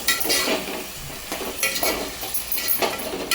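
Turmeric being stirred into keema curry in a pan, a few scraping strokes of the spoon against the metal with light clinks over a soft sizzle, close and alone.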